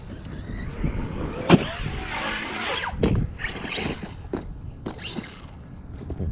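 A Redcat Kaiju RC monster truck driving and jumping outdoors on snow and ice, its electric motor whining in rising bursts with sharp thumps of landings, moderately close.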